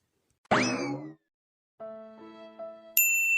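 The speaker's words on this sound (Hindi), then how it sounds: "फोन आ रहा है" A phone rings with a bright electronic tone: a rising chime followed by sustained, held melodic notes, clear and alone.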